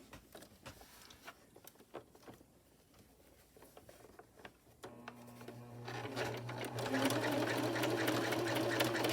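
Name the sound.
sewing machine stitching around skirt bottom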